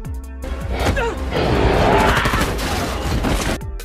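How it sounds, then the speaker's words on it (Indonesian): A rapid burst of gunfire from a monster film crackles over a loud rumbling action soundtrack, dense and chaotic for a few seconds before cutting off. "Josh tidak mempan terhadap semua tembakan tersebut"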